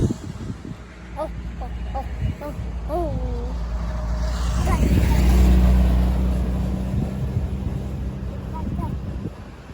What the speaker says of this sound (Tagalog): Pick up truck.